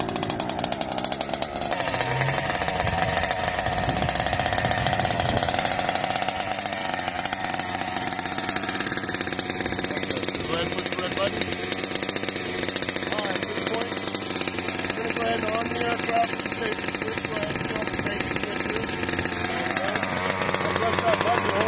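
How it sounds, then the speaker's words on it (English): A small engine on a hybrid surveillance drone fires up and runs at a loud, steady buzzing drone close by, continuous throughout, with voices talking faintly underneath. "After a couple seconds, you'll hear it start to fire, and then you can take the starter away."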